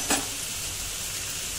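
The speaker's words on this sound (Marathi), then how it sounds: "आपण दुसऱ्या चाळणीत जाऊन भात टाकून हा मिक्स करूया." Rice being mixed into prawn masala, a brief spoon scrape over a constant soft hiss of sizzling, close and steady.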